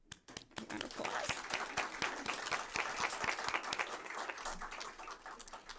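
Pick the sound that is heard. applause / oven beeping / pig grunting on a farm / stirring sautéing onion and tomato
applause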